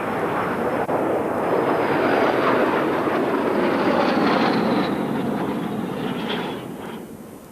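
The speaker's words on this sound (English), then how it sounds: "So there you have the first UK performance of the White Albatross from the Slovak Republic." A White Albatross (L-39 Albatros) jet trainer of the Slovak display team performing at the 1993 International Air Tattoo, its loud jet roar sweeping past with a falling whine before fading away.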